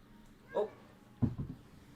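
A pet cat whines for a snack, giving two brief, faint, close cries a moment apart over quiet room tone.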